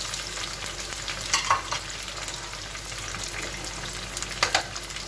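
Tomatoes, green chillies and minced meat fry in a handi pot, giving a steady close sizzle with a few louder bursts of stirring and scraping, no voices.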